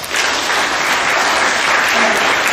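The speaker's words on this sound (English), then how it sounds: "give them another round of applause" A school gym crowd at a middle school awards assembly gives a loud, continuous round of applause for the eighth grade boys team, many hands clapping densely and close at a constant level.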